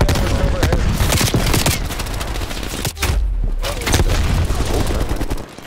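Artillery strike explosions thunder in a Call of Duty: Black Ops Cold War match, with dense, loud blasts and rapid gunfire layered together, a short lull near the middle, then more booming hits.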